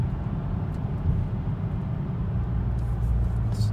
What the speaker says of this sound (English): I'm in third. I'm not gonna go full throttle, but watch, I go in and it just slips